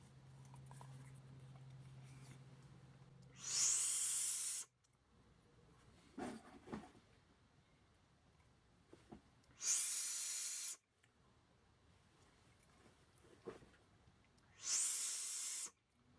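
A Wotofo Serpent SMM vape atomizer fires at 56 watts with the airflow wide open, producing three loud bursts of airy hiss about six seconds apart, each lasting roughly a second, separated by quiet handling sounds.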